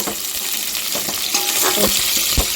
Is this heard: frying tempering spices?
yes